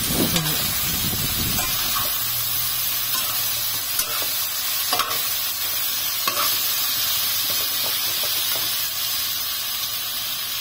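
Carrots, sweet potato and bamboo shoots cooking in a pot, a steady loud sizzle and hiss with occasional stirring scrapes and clinks throughout.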